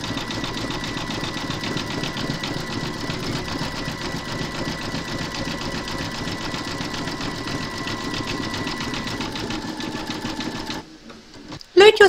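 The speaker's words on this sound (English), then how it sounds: "you're now going to stitch round number 15, and that's going to zigzag and then do the satin stitching around each of the shutters" A home embroidery sewing machine runs a continuous rapid mechanical chatter while satin stitching a gingerbread house design, loud and close, stopping near the end with a few brief clicks.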